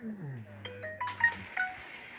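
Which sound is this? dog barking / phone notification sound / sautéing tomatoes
phone notification sound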